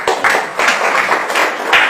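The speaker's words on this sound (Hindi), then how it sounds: "एक बार ताली होना चाहिए।" An audience at a talk bursts into applause, a close, dense wash of many hands clapping in quick irregular bursts for about two seconds, with no talking.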